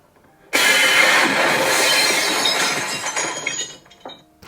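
An AI-generated smashing sound effect: after a brief silence, a sudden loud crash of breaking material bursts out and sustains as a dense shattering roar before tapering off with a few scattered clinks.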